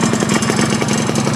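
A 2014 Honda Dio scooter engine idles steadily up close, a continuous mid-pitched putter with light mechanical clatter and no voices.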